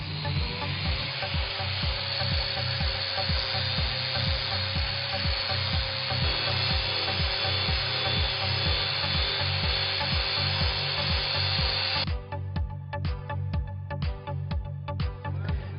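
A Big Buff buffing tool fitted with a Quick Step wheel runs at 7,000 RPM, shaving down a weld for a #4 brushed finish: a loud, steady grinding whir with rhythmic scraping pulses that thins out near the end.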